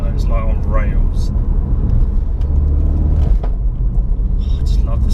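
Engine of a 400 bhp Ford Focus RS heard from inside the car as a steady, deep rumble while driving, with people talking over it.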